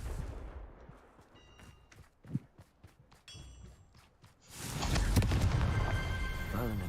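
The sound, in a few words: Confringo fire-blast spell being cast, from video game Hogwarts Legacy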